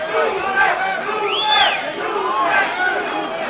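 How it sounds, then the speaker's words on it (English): Boxing crowd at a club-level fight chanting a fighter's name, rhythmic rising-and-falling voices from a large arena audience with cheering under it. "I'm hearing chants of Lupe"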